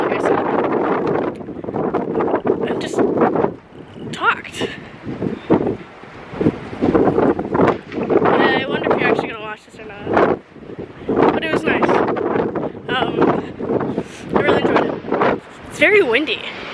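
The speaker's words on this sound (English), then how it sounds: "Windy, but it's kind of nice." Wind buffets the microphone outdoors on a winter day in Toronto, with gusty rumbles rising and falling as people talk over it almost the whole time.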